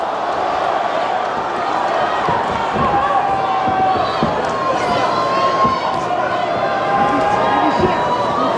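A loud, dense arena crowd roars and cheers steadily throughout a UFC bout in Atlanta between Dustin Poirier and Max Holloway, with sporadic thuds and shouts rising from the continuous wash of noise.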